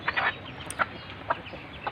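A few separate soft clucks from native (desi) laying hens, spaced out over quiet background hiss.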